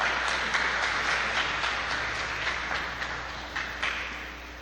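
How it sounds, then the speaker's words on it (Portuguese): A church congregation claps together, a broad, steady wash of applause with a few sharper hand-claps popping out, fairly distant and fading slowly across the clip. "dê uma linda salva de palmas para o Senhor"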